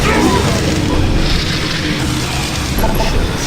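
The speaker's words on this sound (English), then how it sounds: "I'm gonna take a rocket launcher." A rocket launcher fires and explodes in the shooter Doom 3 BFG, loud rumbling booms and crashing blasts that run almost continuously for a few seconds, close and heavy.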